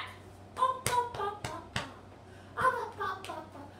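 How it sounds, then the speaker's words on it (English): Several bursts of hand clapping from a group at a children's storytime, loose and uneven rather than in strict rhythm, with excited voices around the claps. "Can you clap your hands?"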